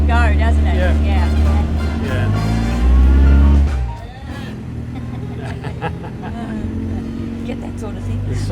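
Classic post-war MG sports car engine droning under way, a loud low rumble that swells then drops back, with people chatting over it throughout.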